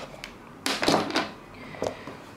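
A OnePlus One smartphone camera fires its shutter sound, a quick soft burst of snapping clicks followed by one more brief click, close and fairly quiet.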